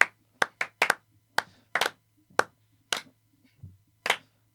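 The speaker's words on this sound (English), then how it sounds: "I think we got to give him a little bit of a slow clap" About ten sharp, separate hand claps spaced roughly half a second apart, a slow deliberate clap on a podcast set, close and dry, with no talking in between.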